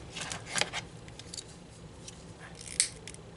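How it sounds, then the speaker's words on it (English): Scissors cutting lace ribbon at an angle for a hair bow, two short crisp snips about two seconds apart, close and quiet. "I'm just going to cut like a little angle here."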